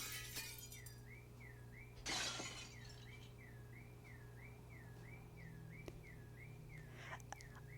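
Car window glass shattering in the video game Since November: a loud, sharp burst of breaking glass lands about two seconds in, over a steady car horn tone and low hum, with fainter clinks later.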